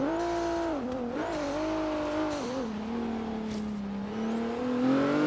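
Race car engine in Forza Horizon 3 droning loudly, pitch wavering with small lifts and dips, then climbing steadily as it accelerates, with a faint whir of tires underneath.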